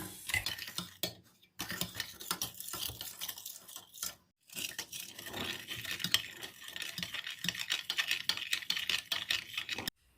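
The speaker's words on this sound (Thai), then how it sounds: "คนส่วนผสมให้เข้ากันนะคะ ให้น้ำตาลละลายค่ะ" A sugar mixture stirred in a pot, with close, irregular scraping and clinking of a utensil against the pot, broken by a couple of brief pauses and no talk.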